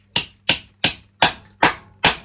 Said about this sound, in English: So I'll hammer them in first, so I don't have any issues stripping them.